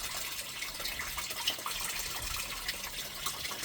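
Water runs through a small clean-up sluice washing pay dirt, a faint, steady trickling rush with no break.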